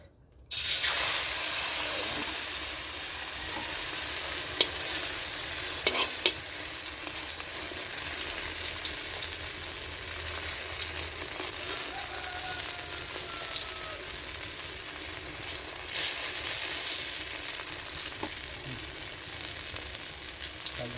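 Eggplant omelette (tortang talong) frying in a hot pan, a strong, continuous hiss and sizzle starting abruptly and holding steady close up, with occasional faint taps.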